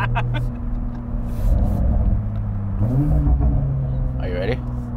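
An HKS ultra-widebody Toyota A90 Supra rumbles with a low, droning engine note as it drifts through a corner, heard from inside the car with people talking over it.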